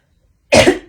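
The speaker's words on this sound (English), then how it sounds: "As I clear my throat." A single short, rough throat clearing, close and loud, lasting under half a second after a moment of silence.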